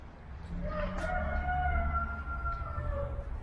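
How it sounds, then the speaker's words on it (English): A rooster crows somewhere in a residential community on the edge of a city in China, one drawn-out call at moderate distance over a low background rumble. "Oops, I'm just hearing a cock crow."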